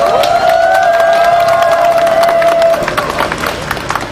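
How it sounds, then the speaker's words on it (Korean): An outdoor crowd at an election campaign rally in front of an apartment complex claps and cheers, a loud sustained tone sounding over it at first, then fading into scattered clapping and shouts. "올라오실 때 큰 박수로 환영해 주시면 대단히 감사하겠습니다"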